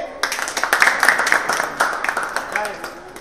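Students at a workshop applaud a teacher with scattered, uneven claps at close range, mixed with voices talking.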